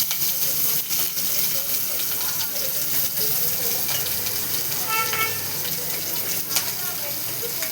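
Green chillies and onions tossed into a hot pan, a steady loud sizzle and hiss running throughout with bursts of crackling spatter, close up, with faint voices in the background.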